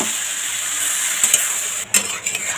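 A tender bottle gourd cooking in a pan is stirred with a utensil that scrapes and clinks against the metal over a steady sizzle, with a louder knock near the end.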